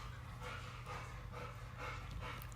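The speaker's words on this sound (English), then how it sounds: "If you're wondering what that noise is, it's my dogs." Several dogs pant steadily in rapid rhythmic breaths close by, with low background hum underneath and no talking.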